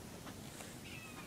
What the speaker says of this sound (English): my cat's just chilling, meowing at me.